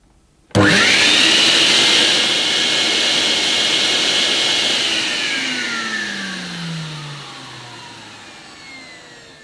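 A Bissell Big Blue 1671L carpet deep cleaner's motor starts abruptly and runs with a loud, harsh whining roar, its pitch gradually sagging as it continues steadily.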